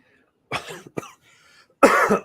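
Several sharp, close coughs come in quick bursts, ending with a longer, harsher cough.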